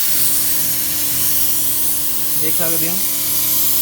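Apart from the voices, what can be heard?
paint spray gun spraying paint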